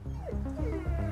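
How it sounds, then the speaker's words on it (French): A neglected dog shut inside a house whimpers and yips in a rising, wavering series of high whines, close and fairly steady across the short stretch. "Un chien dont on ne s'occupe pas, ça s'entend."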